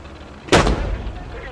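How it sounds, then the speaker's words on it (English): Enemy artillery fire in the war video game Blood Red Snow: a single loud, heavy boom with a sharp onset and a rumbling tail that fades slowly. "Vihollisen tykistöä."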